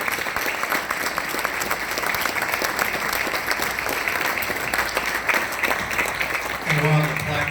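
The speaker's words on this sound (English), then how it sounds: "round of applause." An audience at a university athletic hall of fame induction breaks into sustained, even applause that fills the room for several seconds, with a voice briefly audible near the end.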